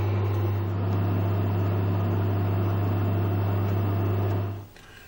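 A microwave oven runs while cooking homemade potato chips, a loud, steady low hum with a fan whir close by, continuing evenly until it cuts off near the end; no talking.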